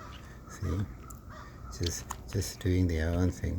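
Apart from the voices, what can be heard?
birds calling outside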